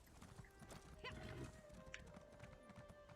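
A horse in the video game Elder Scrolls Online clip-clops along in a soft, steady hoof rhythm, with a faint neigh partway through, all quiet and at middle distance.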